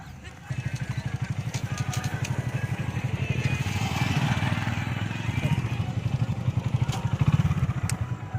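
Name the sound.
motorcycle ride toward state highway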